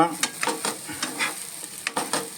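Fresh green chickpeas roasting in ghee for a sweet semolina dish, giving a steady soft sizzle with repeated scraping stirs every half second or so, close and alone.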